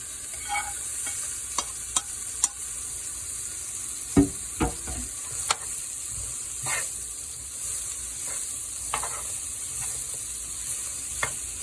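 Onions and mushrooms frying in leftover cube-steak grease, a soft steady hiss punctuated by scattered clicks and scraping stirs, quiet and close.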